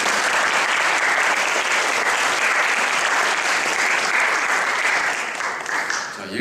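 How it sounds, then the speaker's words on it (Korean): Church congregation at a Sydney Korean church service giving a big, sustained round of applause, dense and loud, filling the room evenly before easing off slightly near the end. "우리 크게 박수로 한번"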